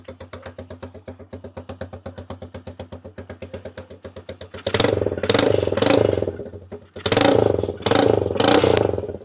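A motorcycle engine idles with a steady chugging pulse, then revs up loudly twice in long roaring bursts, close by.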